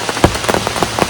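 Rain patters steadily on a surface in a short burst of scattered close drops and taps over a low background hum, with no voices.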